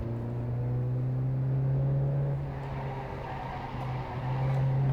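Mazda Skip Barber Formula 2000 race cars in the iRacing game at Suzuka Circuit scream with a loud, sustained engine drone whose pitch holds steady, then dips and climbs again as the cars chase.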